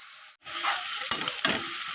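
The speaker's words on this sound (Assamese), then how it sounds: "এয়া মই পিঁয়াজখিনি মই ভালকৈ ৰঙচুৱাকৈ ভাজি ল'ম" Onions sizzling in a pan as they brown for Assamese koldil, a steady hiss broken by a brief pause and a couple of sharp stirring scrapes.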